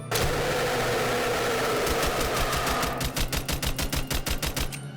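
Gunfire in a Minecraft horror mod: a dense, steady roar of rapid shots that turns into a fast, evenly spaced stream of sharp individual cracks, loud and close.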